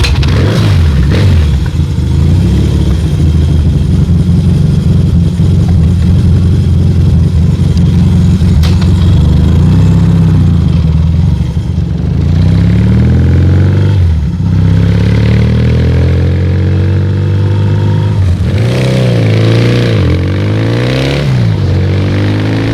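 A kick-started motorcycle engine with a dead battery, close and very loud, idling with a steady throb and then revving up and down several times toward the end.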